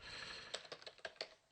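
Quiet keystrokes on a computer keyboard, a handful of separate clicks in uneven rhythm, close by and with no talking.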